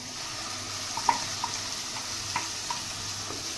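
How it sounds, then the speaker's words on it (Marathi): Ground masala paste with turmeric frying in oil in a pan, a soft steady sizzle with a few faint stirring clicks, close but quiet and without speech. "याला तेल सुटेपर्यंत चांगलं फ्राय करून घेते"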